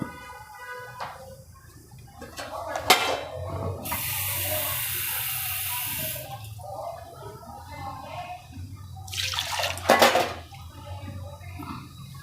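Water is poured from a tap into a mixed flour bowl for dough, giving a steady splashing stream of a few seconds among clinks of utensils and dishes, followed by another short burst of running water.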